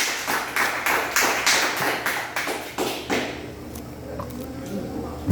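A church congregation claps in a steady rhythm as an offering of applause to God. The close, even beats fade after a few seconds into quieter scattered taps.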